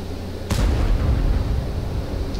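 A tank gun fires in World of Tanks, one sharp heavy boom at the start followed by a long low rumbling tail that holds steady to the end.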